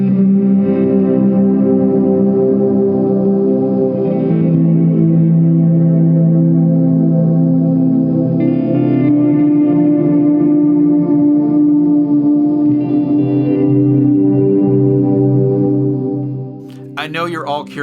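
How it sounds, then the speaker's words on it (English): Electric guitar triads swell in slowly with reversed attacks through a Walrus Audio Lore pedal's reverse delay into octave-down dark reverb, sustained and layered, with a short scrape at the end. "playing triads into program 3, which is reverse delay into octave down reverb, or what they call dark reverb"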